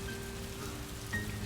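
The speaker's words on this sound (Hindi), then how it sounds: "एकदम से बारिश हो गई।" A sudden downpour patters steadily in a broad, even hiss outdoors, a continuous wash of falling rain with no voices over it.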